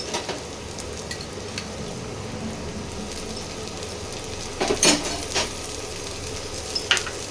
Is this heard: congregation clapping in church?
no